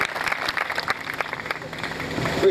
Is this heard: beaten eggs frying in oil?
no